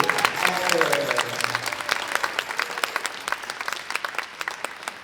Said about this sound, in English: Big round of applause for our tech crew.